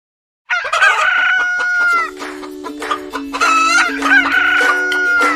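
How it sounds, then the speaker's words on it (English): A rooster crows loudly and close by, with drawn-out calls and some clucking, repeated several times in quick succession. "Rooster."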